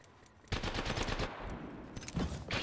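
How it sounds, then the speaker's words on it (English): Dense automatic gunfire from an enemy squad in the shooter game Apex Legends, a loud sustained burst of rapid shots starting suddenly and continuing with brief gaps, closer shots returning near the end. "The second squad is firing at us."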